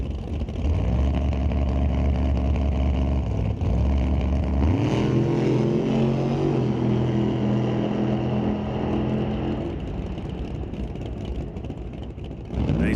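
A drag racing car running nitrous makes a pass at Mission Raceway Park, a loud sustained engine roar that climbs sharply in pitch midway and then fades, with no talk.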